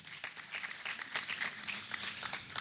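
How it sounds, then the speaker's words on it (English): Steady applause from a crowd at a Nigerian official unveiling ceremony, a dense patter of many hands clapping, fairly distant and soft, with no voices over it. "Please a round of applause for him."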